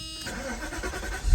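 Mercedes R129 SL starting up: a short crank giving way to a steady engine rumble, close and fairly loud, with a louder burst right at the end.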